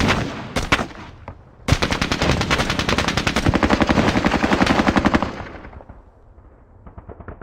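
Machine gun fire in the Squad Battles Eagles Strike war game, a few sharp single shots and then a long loud rapid burst of evenly spaced rounds that cuts off, followed by quieter fading echoes and a few distant pops.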